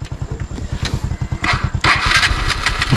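A trail motorcycle on a ride in rural Zamboanga del Norte starts and runs, its single-cylinder engine thumping in a fast, steady pulse close by, then revving up louder with a harsher roar in the final second.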